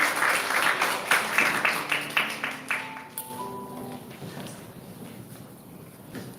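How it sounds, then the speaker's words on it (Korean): Lecture audience clapping to welcome a visiting professor at a sustainable development course, brisk applause that fades out midway, leaving a few scattered claps and soft room sounds behind. "큰 박수로 맞이해 주시기 바랍니다."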